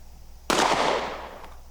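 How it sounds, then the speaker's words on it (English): A single sharp, loud pistol shot cracks out from a chambered gun drawn and fired, followed by a brief decaying echo, with a faint second click after it. "Draw and fire with a chambered gun."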